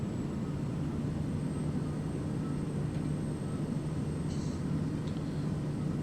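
Light aircraft in Microsoft Flight Simulator on landing approach to a sloped Papua New Guinea highland bush strip, flaps fully down at about 70 knots; a steady, loud engine drone holds throughout with a faint hum above it.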